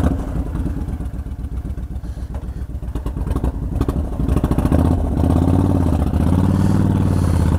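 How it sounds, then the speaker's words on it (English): A motorcycle engine runs loud and close while riding, a rough pulsing chug that builds into a steadier, stronger drone as the bike picks up. "Let's hope my bike doesn't die on me this time."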